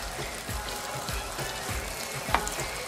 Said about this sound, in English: And now we'll just let this cook for approximately 5 minutes until you see the shrimps are fully red.